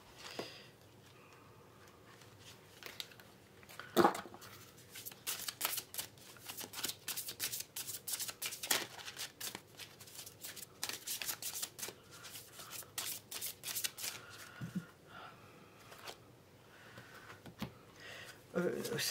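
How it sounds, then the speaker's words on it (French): Playing cards being shuffled and drawn for a sentimental guidance reading, a long run of dense riffling and sliding bursts with brief pauses, close and fairly quiet, with occasional soft speech. "Je vais essayer de sortir quelques cartes de là-dedans, si j'arrive."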